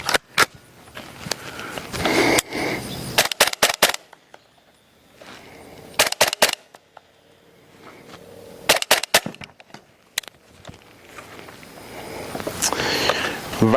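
A suppressed BRN180 rifle fires subsonic rounds in semi-automatic, giving a series of sharp, muted cracks in quick bursts with short pauses between them, each shot followed by the clack of the action cycling.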